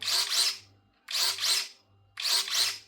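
A set of electric pruning shears (secateurs) runs after activation, giving three close motorized whirring cycles, each a quick pair of rising buzzes followed by a short lull, with no voices.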